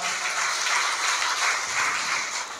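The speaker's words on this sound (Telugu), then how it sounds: "ఒకసారి చప్పట్లు కూడా దేవుని స్తుతిస్తారా?" A church congregation at a Sunday service claps their hands in praise: dense, sustained applause from many people throughout, loud and close with no talking.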